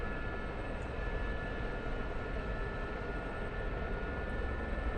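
Heavy military aircraft engine loaded with troops straining through a takeoff run in the DCS flight simulator, a steady, dense, loud roar that holds constant with no voices over it.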